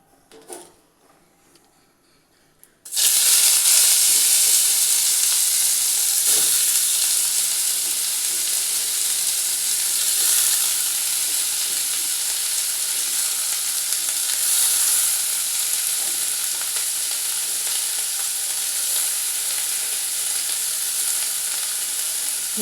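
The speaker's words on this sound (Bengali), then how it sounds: "এবার আমি পেঁয়াজগুলো দিয়ে দিচ্ছি।" Onions hit hot oil in a wok and burst into a loud, steady sizzle after a few quiet seconds, then keep frying with a dense, even hiss and a few faint clinks, no voices.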